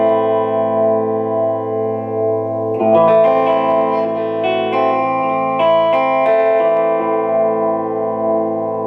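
A clean electric guitar tone played through a Boss GT-100 effects processor: a sustained chord rings, then a new strummed chord at about three seconds rings out evenly with gentle sustain, alone.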